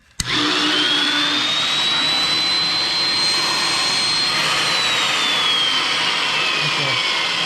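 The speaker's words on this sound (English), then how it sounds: "what I can do is I can turn this motor on and see what's spinning and what's not spinning" Electric motor of a 1950s vintage Sunbeam electric mower switched on, running with a steady loud whine and broad mechanical hum, a faint pitch slowly rising then falling, continuous from start to finish with no talk.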